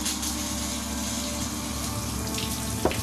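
A running shower in a cartoon hisses and gushes continuously, a loud, steady spray of water with a brief splashy accent near the end.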